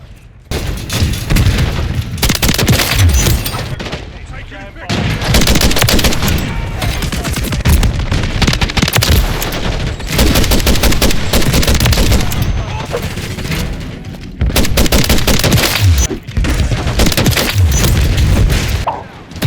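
Dense bursts of automatic gunfire and booming explosions from the JAK Jawbreaker in Call of Duty multiplayer, loud sustained volleys broken by brief lulls, with voices speaking over the battle.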